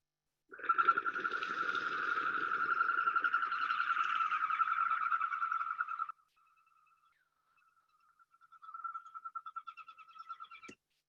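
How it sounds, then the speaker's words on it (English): Goldeneye ducks taking off from water in the Alaskan wilderness, their wings producing a steady pulsing whistle for several seconds, a pause, then a second shorter burst of rhythmic whistling. "So it sounds like that could be vocalizing, but that's all just wing whistle."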